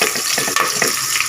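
Green chillies and onion hitting hot oil, crackling with a loud, close, dense sizzle and a few quick stirring scrapes over a short burst.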